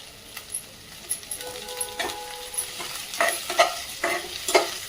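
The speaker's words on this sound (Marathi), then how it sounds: "सर्व साहित्य व्यवस्थित परतून घेऊया" Finely chopped onion with curry leaves and green chillies sizzles in a pan as a spoon stirs and scrapes it in quick, repeated strokes, close and steady, with occasional light clinks.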